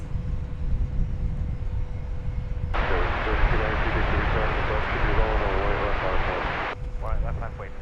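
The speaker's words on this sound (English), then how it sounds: "This, I believe, is American Flight 2789, an Airbus A321." An American Airlines Airbus A321 jet at DFW Airport roars steadily and loudly close by for several seconds, a broad sustained engine rush over a low rumble, with faint background voices and a brief chirping sound near the end.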